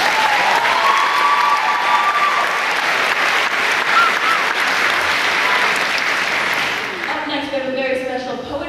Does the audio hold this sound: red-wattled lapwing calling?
no